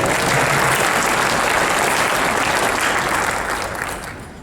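Loud, dense applause from a large crowd at a Libertarian Party convention in Orlando, a continuous roar of clapping that holds steady and then starts to fade near the end.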